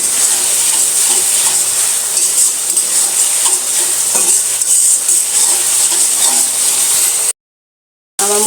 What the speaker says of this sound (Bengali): এবার সব উপকরণ আমি একসাথে এখন ভেজে নেব